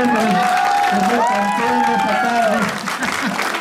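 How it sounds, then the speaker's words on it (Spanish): Applause from a crowd at a huapango dance contest at a fair in San Juan Amajaque, steady and fairly loud, with a voice speaking Spanish over it and a drawn-out tone sliding above the clapping. "Un fuerte aplauso para la número uno"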